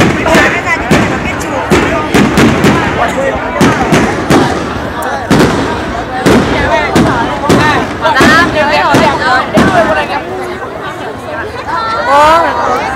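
Fireworks set off at a Vietnamese birthday celebration, a dense string of loud sharp bangs and crackles bursting repeatedly, nearly continuous, with people chattering and calling out throughout.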